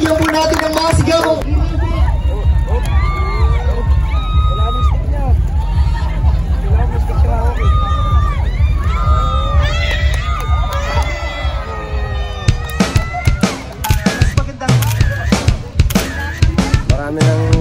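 A large crowd at the Bañamos Festival aqua sports games in Los Baños cheers and shouts loudly and continuously, with children's yells and whistles over a steady babble, rising in sharp bursts toward the end.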